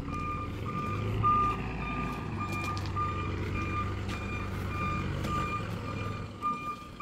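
A lorry's reversing alarm beeps steadily in a regular repeating pattern while a stuck truck is being recovered, over a continuous diesel engine rumble at moderate distance outdoors.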